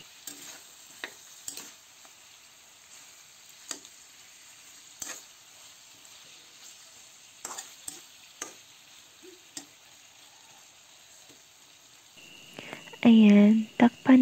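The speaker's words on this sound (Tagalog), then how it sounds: "haluin natin ito" Meat cooks in a pan while a utensil stirs it, giving scattered clacks and scrapes against the pan over a quiet sizzle, ending with a short spoken phrase close to the microphone.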